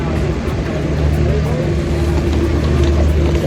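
A ship's boat engine drones steadily near Phi Phi Island, a loud continuous low rumble mixed with wind and water noise while people talk faintly over it.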